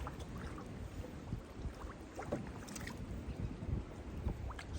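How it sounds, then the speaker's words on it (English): Paddle strokes and water sloshing from a small boat on a river or lake while checking limb lines for catfish, steady close splashing and rippling with some wind noise and no talk. "We're gonna paddle over here."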